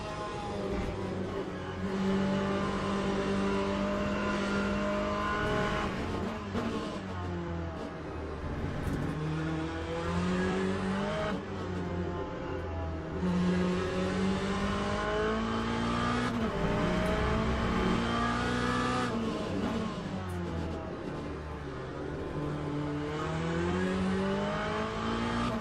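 Race cars and hypercars in Le Mans Ultimate at Interlagos, engines droning and rising through gears as cars pass, a steady layered whine of several motors throughout with no talk.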